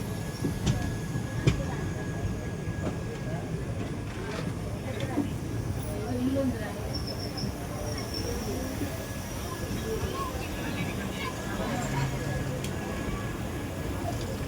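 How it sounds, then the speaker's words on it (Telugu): The SMVT Bengaluru superfast express passes a station as a low, continuous rumble of rolling wheels, moderately distant and steady throughout, under scattered speech. "ఎస్ఎంవిటి బెంగళూరుకి వెళ్ళే ట్రైన్ అనమాట ఇదైతే."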